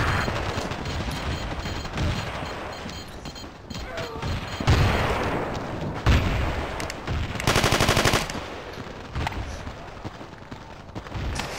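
Rapid bursts of automatic gunfire and heavier blasts in the video game Battlefield 2, dense and continuous across the clip with louder volleys, and a voice speaking briefly amid the shooting.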